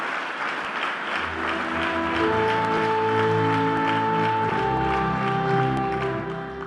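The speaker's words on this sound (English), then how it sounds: "I'd like to give a big round of applause to everybody who contributed today." An audience at the Samanvay Youth Meet gives a round of applause, a steady wash of clapping that swells in the middle, with music playing underneath.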